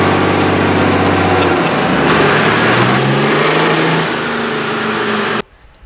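A car engine runs loud and close on a dyno, pulling from low rumble into a rising rev that climbs steadily for several seconds before cutting off abruptly, with no talk over it.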